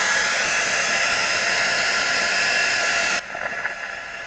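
A hair dryer drying paint on a holiday village collage runs as a steady close rushing whoosh for about three seconds, then cuts off abruptly, leaving a softer rustling tail.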